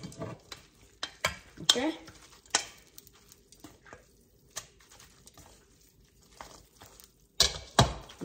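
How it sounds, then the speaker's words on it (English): Indonesian stir-fried noodles with sweet soy sauce get tossed in a pan on a switched-off stove, giving irregular scraping and clattering utensil strokes with soft sizzle between them, close by, with a brief word spoken. "All right, so now we're going to mix"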